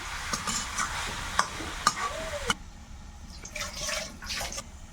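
Country chicken and fried potato are stirred together in an oily pan, giving sharp scrapes and clicks of the spoon over a low sizzle, with a brief quieter stretch near the end.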